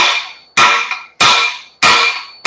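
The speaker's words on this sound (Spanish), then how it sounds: "Vamos a martillar con un punzón romo" Four loud, ringing metallic strikes in a steady rhythm as a blunt punch is hammered against a welded rear axle on a Ford Cargo 1721 truck. Each blow rings and fades before the next.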